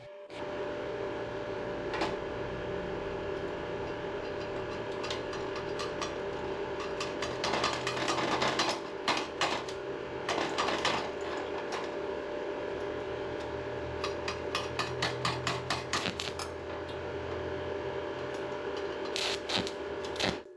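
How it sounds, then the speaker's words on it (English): Stick welding arc from a budget electrode at 70 amps, a steady crackling sizzle that runs continuously with bursts of sharper popping and spatter throughout, fairly close. "Now the next test I'm going to do is try to weld continuously."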